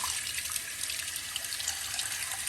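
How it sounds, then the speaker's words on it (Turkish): Steady, close hiss of running water rinsing the fan of a Demirdöküm Nitron combi boiler that has an F05 fault. The flow is continuous and unbroken, with no voices over it. "dikkat ediyorsanız fana suyu tutarken sürekli boğaz aşağıda"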